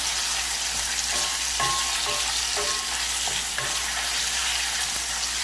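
A pork chop frying in a pan for Puerto Rican arroz con gandules y chuleta, a dense, even sizzle held close throughout, with a few faint clinks of utensils and no talking.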